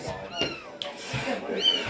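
A domestic cat meows a few times close by, short rising and falling cries, while children talk and chatter in a lively home setting.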